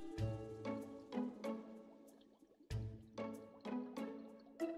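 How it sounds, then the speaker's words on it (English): A magic potion is poured onto a plant in Roblox Wacky Wizards, giving a run of bright watery drips and splashy plinks in uneven clusters, close and fairly quiet with chiming tonal overtones. "Pour the potion on here."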